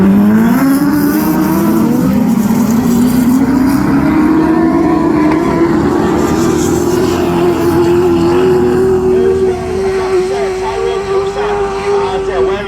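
Class 10 autograss race cars at the start of a heat at the Men's Autograss Nationals, a loud continuous pack of engines revving and climbing in pitch as they pull away, with a commentator talking over the roar.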